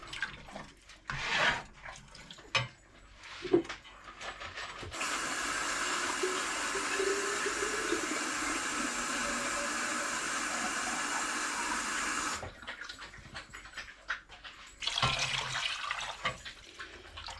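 Water pours into a soup pot of pork and lentil soup already holding pork stock. It makes a steady rushing splash for about seven seconds, with brief kitchen clatter before and after.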